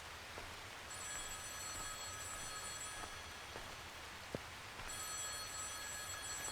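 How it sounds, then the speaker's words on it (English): A telephone rings in the horror video game Lempo, sounding in two long, steady bursts over a constant rain-like hiss, with a single sharp knock between them. "Oh god, it's the phone again."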